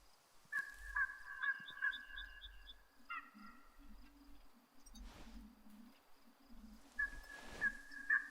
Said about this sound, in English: Okay, that's just the birds flying off.